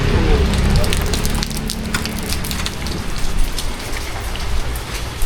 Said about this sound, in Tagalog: Naglalakad-lakad sa gitna ng ulan